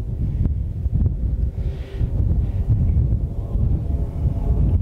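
Strong gusty wind buffets the microphone at Willow Springs International Raceway in the Antelope Valley, a continuous low rumble that surges and eases, loud and close, with no talking.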